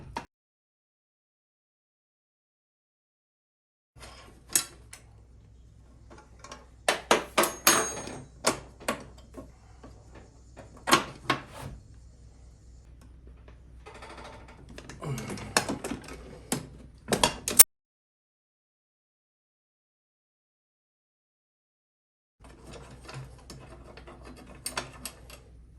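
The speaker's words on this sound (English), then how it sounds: "Also I have a 1/2 inch socket on the nut side here, so put that on there and hold it, and then I will loosen it up." A half-inch socket wrench loosening a bolt on a Snapper SPX lawn mower seat bracket, with sharp metallic clicks, ratcheting and clanks in irregular bursts, close, separated by silent gaps.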